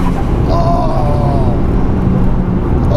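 A 21-year-old Mitsubishi Evo 6 drones steadily from inside the cabin while driving, a loud, constant engine and road roar with no clear gear changes.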